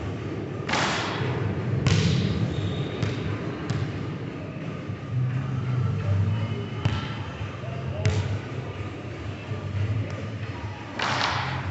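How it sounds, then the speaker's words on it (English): A basketball thuds with repeated bounces on an indoor court around three-point shots, sharp hits spaced every few seconds over a steady gym echo and background noise. "he's going to be shooting a three-point shot for the final progression"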